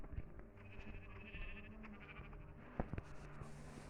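A sheep in a video game bleats in a few wavering calls, heard fairly close over a low background with game sounds and a couple of soft knocks.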